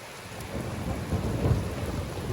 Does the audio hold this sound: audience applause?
no